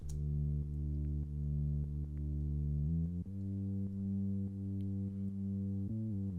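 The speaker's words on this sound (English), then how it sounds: "The clean one sounds like this." A clean, steady synth bass plays alone, holding low sustained notes with a subtle change in pitch partway through and soft articulations.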